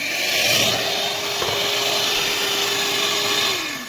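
A steady electric mixer motor whirs loudly and continuously with a constant hum, running close by for several seconds before winding down slightly at the end.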